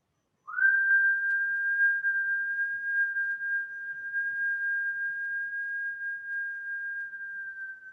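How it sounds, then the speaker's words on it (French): One long, steady whistle on the exhale during a kundalini yoga session, clear and close, holding a single pure pitch for about seven seconds in otherwise quiet surroundings. "tu vas essayer de siffler"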